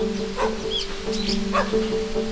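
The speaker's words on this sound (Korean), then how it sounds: "큰 소리로 짖어대며 제작진을 경계합니다." Dog, one of a pack of three strays coming down from a mountain, barks sharply at approaching strangers in short repeated yips and barks over a steady background hum.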